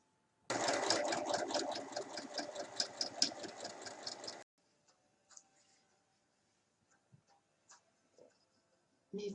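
A sewing machine stitches along fabric binding on a wall-mounted mail organizer, a fast steady mechanical rattle lasting about four seconds before stopping, followed by faint scattered handling sounds.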